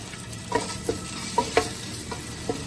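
Eggs frying lightly in a pan with salt, red chili powder and turmeric, a low steady sizzle broken by several light clinks and scrapes of a spatula stirring.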